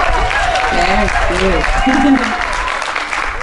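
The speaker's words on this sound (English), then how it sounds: "oh, come on, one more applause." Audience applause at a spiritual gathering, sustained clapping from a crowd that carries through the whole stretch while voices talk and call out over it.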